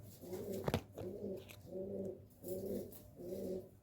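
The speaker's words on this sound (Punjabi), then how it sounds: "ਫਿਰ ਆ ਬੈਠੇ ਨੇ ਕਬੂਤਰ" Pigeons coo close by in a soft, repeated rhythmic phrase, about four calls, with a brief sharp clatter near the start.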